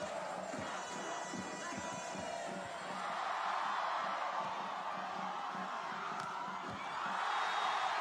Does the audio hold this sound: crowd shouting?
yes